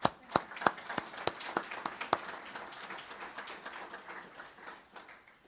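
Sparse applause from a small audience at a business forum, a few sharp distinct claps up front that soften into light scattered clapping and fade out.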